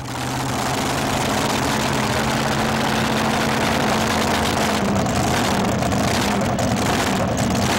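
A supercharged mini modified pulling tractor, a class derived from garden tractors, roars at a 1987 tractor pull in Syracuse. Its engine holds a loud, steady, deep drone throughout, close and unbroken.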